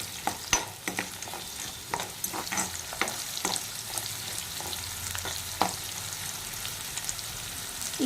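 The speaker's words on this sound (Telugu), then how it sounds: "ఈ ఎర్రగడ్డ ఈ విధంగా ఫ్రై అవుతున్నప్పుడు" Beetroot frying in a pan while being stirred, a steady sizzle broken by repeated scraping strokes of a spoon against the pan, close and fairly loud, with no talking.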